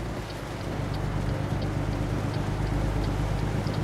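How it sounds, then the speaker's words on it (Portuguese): Heavy rain falls steadily in American Truck Simulator, a dense, even hiss that holds constant over a low rumbling truck engine hum, with no voices. "Como a chuva apertou agora"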